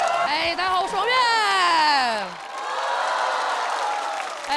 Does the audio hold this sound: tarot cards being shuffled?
no